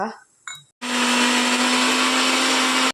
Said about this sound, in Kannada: ಎಲ್ಲ ಮಸಾಲೆ ಮಿಕ್ಸಿಗೆ ಹಾಕಿದೆ. ಈಗ ಅದಕ್ಕೆ ನೀರು ಹಾಕಿ ರುಬ್ಬಿಕೊಳ್ಳುವ.